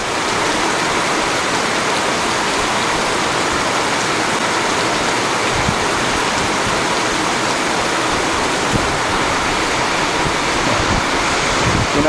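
Heavy rain storm driven by strong wind, a dense, continuous roar of rushing water and gusts that stays loud and steady throughout, with no voices.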